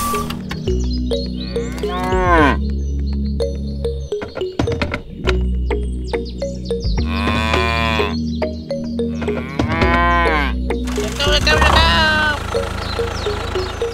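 Cartoon-style cow mooing in several long, loud calls spaced across the stretch, over steady background music on a farm with a tractor.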